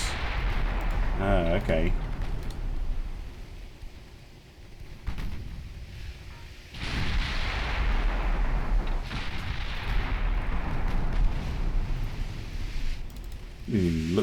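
Heavy naval guns fire in the Ultimate Admiral Dreadnoughts naval video game, several loud booming salvos spaced out over the stretch, with someone speaking briefly between the shots.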